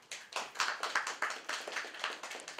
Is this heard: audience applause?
yes